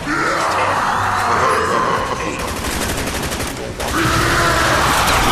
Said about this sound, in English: I'm shooting George, and trying to kill him again just so we can get another perk